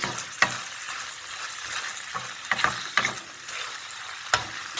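Liver sizzles steadily in a hot pan as it is stir-fried Turkish kavurma style, with a soft continuous crackle broken by sharp scraping clacks of a utensil against the pan at irregular intervals.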